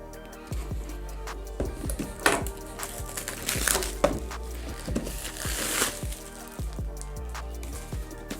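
Cardboard packaging of an Oculus Quest 2 box being opened up close, with scattered crinkles, scrapes and soft thumps of handling in irregular bursts, no talking.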